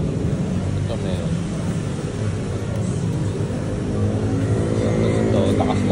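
A BMW GS motorcycle engine idles with a steady, low, vibrating rumble close by, running continuously beneath a voice.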